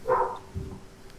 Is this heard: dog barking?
yes